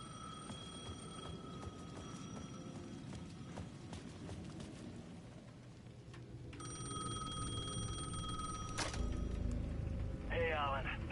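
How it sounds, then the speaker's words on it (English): A payphone at the edge of a plaza rings in the video game Alan Wake 2, its electronic bell tones sounding in repeated bursts over a low, rumbling game ambience. "The payphone at the edge of the plaza was ringing again."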